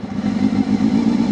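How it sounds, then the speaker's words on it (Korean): A Honda Hornet 250 four-cylinder motorcycle engine with about 90,000 km on it fires up and idles near the listener. A loud, steady, buzzing burble with a quick, rough pulse runs throughout the short burst. "시동을 한번 걸어 볼게요."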